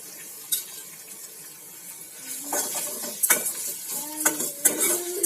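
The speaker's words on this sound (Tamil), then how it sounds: "கொஞ்சம் கருவேப்பிலோட அந்த பச்சை வாசனை போறது வரைக்கும் வதக்குவோம்." Curry leaves sautéed in a pan for chutney: a low background sizzle broken by intermittent scraping and clacking stirs that grow more frequent toward the end.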